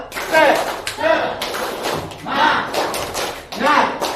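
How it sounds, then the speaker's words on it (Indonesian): A group performs a rhythmic spirit clap chant at a school culture event, loud bursts of clapping falling in a repeating pattern of about five phrases, mixed with chanted voices. "Tepuk tangan semangat"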